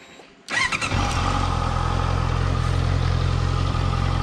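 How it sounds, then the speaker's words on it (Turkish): A Honda CBR 650F four-cylinder motorcycle engine fires up and settles into a steady, loud, close idle with a deep, even rumble that continues without a break. "Bir de motorun sesini dinleteyim size."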